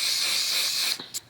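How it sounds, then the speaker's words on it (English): Makeup setting spray mists onto a face in one steady hissing burst of about a second, followed by two quick short puffs, close and with no talking. "So I'm just gonna like spray it onto my face."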